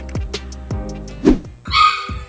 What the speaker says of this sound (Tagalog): napakaingay ng aso sa taas, tahol ng tahol